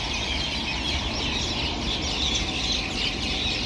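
A dense chorus of many birds chirps and chatters continuously at evening in Dubai, loud and busy, like a flock settling at dusk.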